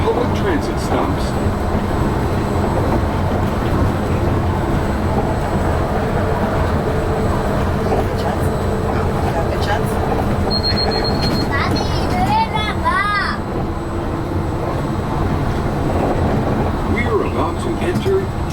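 Disneyland monorail running along its track, heard from the driver cabin as a continuous rumbling, whining drive with rising and falling electric tones, while a voice talks throughout.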